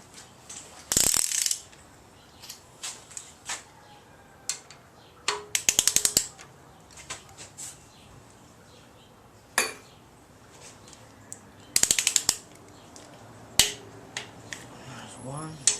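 A torque wrench clicks and ratchets as engine bolts are tightened to 50 foot-pounds in an engine build, sounding as short bursts of sharp metallic clicks in several separate groups against a quiet workshop background.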